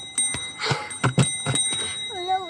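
A bicycle bell rings in a few quick, bright dings mixed with clattering handling noise nearby, followed by a wavering high trill, with no talk.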